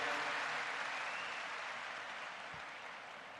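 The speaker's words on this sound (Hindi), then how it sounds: "तालियां की गड़गड़ाहट" Applause at a ceremony where India's Prime Minister inaugurates the 200th birth anniversary celebrations of Maharishi Dayanand Saraswati, a broad roar of crowd clapping that starts strong and slowly fades over a few seconds.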